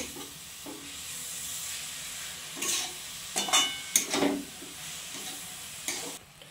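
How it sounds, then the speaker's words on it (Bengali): Jaggery and grated coconut mixture being stirred in a pan for coconut roll pitha, a low steady sizzle with a few louder scraping strokes of the spoon near the middle, close and without talk. "গুড় আর নারকেলের মিশ্রণটাকে ভালোভাবে আমি"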